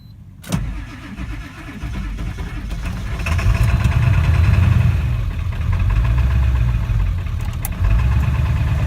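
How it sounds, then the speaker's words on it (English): A car cranks over after a jump start, catches with a sharp start, then runs at a steady high idle, loud and close, engine droning with no talk. "There we go, now the high idle's on."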